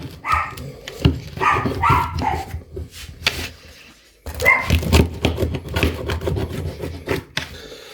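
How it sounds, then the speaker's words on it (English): A dog in a home kitchen barks loudly in repeated sharp bursts, with whimpers and a short pause midway before the barking resumes close up. "Sorry for the dog."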